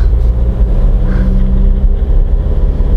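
Loud, steady low engine rumble of a Volkswagen Caddy 1.9 TDI diesel car underway, droning continuously without pause and with no voices.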